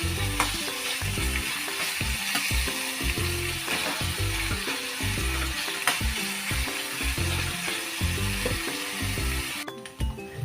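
Anchovies frying in a pan with garlic, ginger, shallots and curry masala give a steady, close sizzle with stirring clatter throughout, under a rhythmic background music bed.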